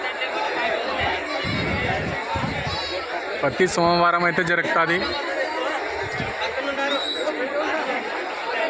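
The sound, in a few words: crowd chatter at Pattikonda bull market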